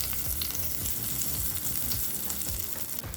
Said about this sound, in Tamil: இப்போ சட்னியை தாளிச்சிடலாம்.